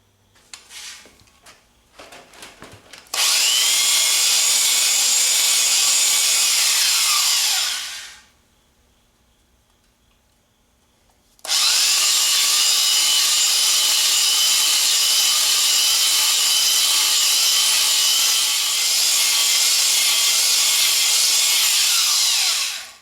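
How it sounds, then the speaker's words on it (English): Fine honing inside a two-cylinder John Deere engine block gives a loud, steady abrasive rasp, running for about five seconds, pausing briefly, then resuming for about eleven seconds, with a few knocks at the start. "Gotta fine hone it now."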